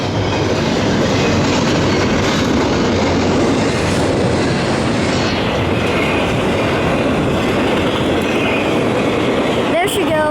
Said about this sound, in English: Yeah, that was a faster train.